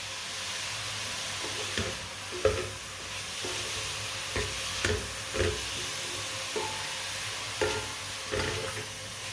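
Carrots cooking in a pan over a medium flame, a steady sizzling hiss punctuated by periodic scrapes and taps of a spoon stirring them.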